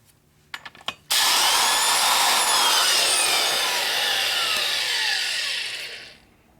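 Valve seat grinding on a Harley-Davidson FXR engine during a top-end valve job: a few faint taps, then a loud, steady abrasive whir that runs for about five seconds before winding down, with no talking.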